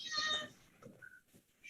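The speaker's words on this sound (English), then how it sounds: "I got a rotten cat here." A cat gives a short, fairly faint meow with a few small noises after it in a quiet room.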